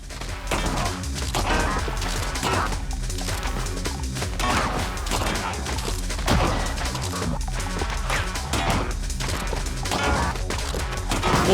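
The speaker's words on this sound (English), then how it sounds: "Oh, missiles. Missiles." Missile fire in Gunbrella comes as a dense, continuous barrage of crashing, thudding blasts and shots, loud and steady throughout.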